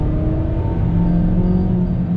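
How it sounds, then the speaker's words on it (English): A 2020 Toyota Corolla SE with a 6-speed manual and naturally aspirated engine pulls under throttle into third gear, a steady close engine drone with road rumble throughout and no talking. "really nice and smooth power delivery from the naturally aspirated engine into third gear."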